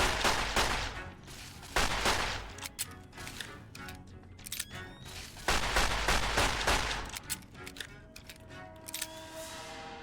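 Repeated gunfire bursts and single shots crack loudly from the Fallout New Vegas video game, mixed with rumbling blasts and clatter in a dense, busy battle soundscape.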